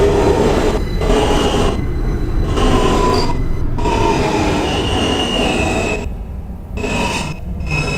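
A Manhattan-bound F local subway train runs on the Coney Island line near Neptune Avenue, rumbling loudly and continuously up close, with metallic wheel squeal rising and dropping out and no voices.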